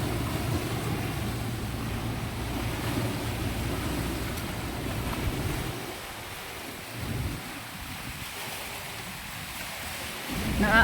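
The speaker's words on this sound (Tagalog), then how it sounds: "Hangin dito mga tiyay. Maingay na mahangin." Wind gusts across an open seashore with broadband rumble and hiss, steady for about six seconds before easing into a quieter, intermittent rush that swells again at the end; no voices.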